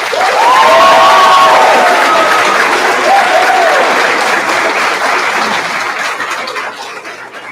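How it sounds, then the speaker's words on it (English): A school audience applauds and cheers for the Teacher of the Year, loud and sustained clapping with whoops and whistles near the start, gradually fading toward the end. "Another round of applause for Mrs. Nardini."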